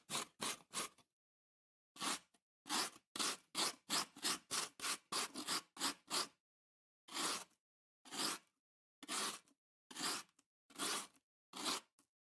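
A metal grater played as a Trinidad rhythm-section instrument is scraped in sharp, crisp strokes, first a few quick ones, then a fast run, then slower evenly spaced scrapes, close and alone.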